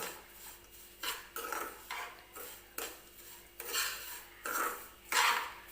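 Semolina dry-roasting in a pan for upma, stirred with a metal spoon that scrapes and clinks against the pan in repeated bursts about every second, close and fairly soft, with no talking.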